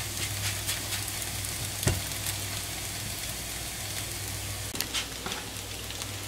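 Kaiserschmarrn, a sweet, fluffy shredded pancake, sizzles steadily in a frying pan with a constant close hiss and a couple of soft knocks from the pan or utensil.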